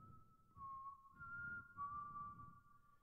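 Someone whistles a simple tune, clear and steady, with soft low rumbling noise underneath.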